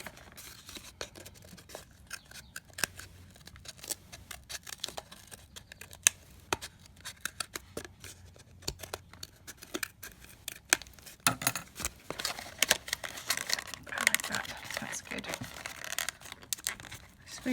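Scissors snip and crunch through a juice carton being cut for a luminary, a run of sharp, close clicks and papery scrapes with no talking, growing denser and louder toward the end.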